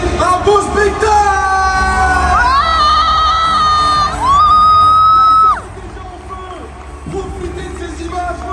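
A large crowd roars, shouts and whoops at a boxing event inside Paris La Défense Arena, loud and sustained, while sustained tones and announcer-style voices rise over the din before the noise drops to a quieter hum.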